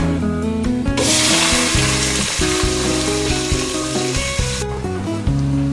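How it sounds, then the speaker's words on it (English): Onions sizzling in hot oil with biryani masala in a home kitchen pan, a loud steady hiss that swells in and holds for several seconds over a busy background of music-like tones. "Then we'll put our onions."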